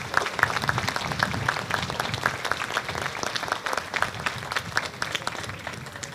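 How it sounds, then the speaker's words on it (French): A crowd at a mayor's New Year address applauds healthcare workers, a full, steady round of clapping with crisp individual claps standing out, lasting several seconds. "je crois qu'on peut les applaudir comme on le faisait déjà à l'époque au moment du Covid"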